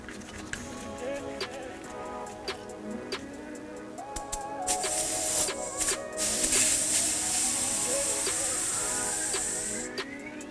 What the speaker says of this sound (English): Spray with soapy water, check for any leaks.